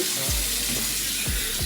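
Tap water runs steadily into a bathroom sink while someone rinses their face, a continuous close hiss with a few soft splashes as hands scoop and splash water.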